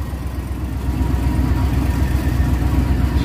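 A lawn care truck's engine idles steadily after sitting unstarted for a week in below-freezing cold, a low, even rumble with a steady pulse that grows slightly louder after the first second and holds.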